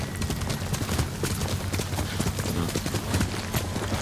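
Horse hooves gallop in the Ghost of Tsushima video game, a fast continuous clip-clop rhythm that stays loud and close throughout over a dense wash of in-game noise, with no talking.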